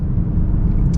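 A 2023 Genesis G70 with the 2.0-liter turbo engine in Sport Plus mode gives a loud, steady, low engine rumble from inside the car, with no clear rev swings over one second.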